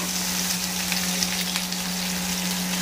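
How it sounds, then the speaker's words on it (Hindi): Chopped onion and green chili fry in a pan, a steady close sizzle and crackle with no talk, while a constant low electrical hum runs underneath. "ये मेरी प्याज, हरी मिर्च, मेरी प्याज हरी मिर्च डाल दिया, इसको भूनने देते हैं"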